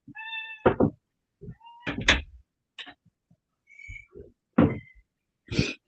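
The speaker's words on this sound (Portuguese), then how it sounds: "A gata está aqui dentro miando" A female cat meows several times, close by, indoors, with short harmonic cries between a few sharp knocks and thumps.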